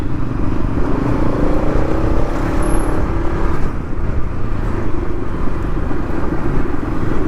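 A Bajaj NS200 motorcycle ridden along a road, its engine droning steadily and loud up close with rising and falling revs and road rumble underneath.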